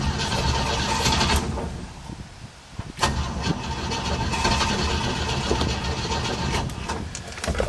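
A 1968 Chevy C10 pickup engine cranks, catches and keeps running with a rough, uneven rumble, the revs rising and dipping as it settles, recorded close by.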